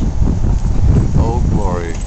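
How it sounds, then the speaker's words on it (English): Gusty wind on a windy day in Newark, New Jersey, buffets the microphone with loud, low rumbling, and a voice briefly speaks toward the end. "Guess you can tell it's a pretty windy day today"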